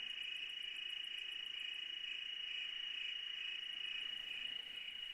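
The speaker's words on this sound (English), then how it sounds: "That last clip actually has 3 different species of crickets." Three species of crickets chirping together at night around 10:30, a steady dense high trill with a faint pulsed chirp layered above it, continuous and even throughout.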